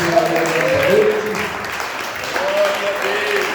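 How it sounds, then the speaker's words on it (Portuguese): A church congregation claps steadily in a sustained round of applause, with a voice speaking over it. "Adore o Senhor com uma salva de palmas."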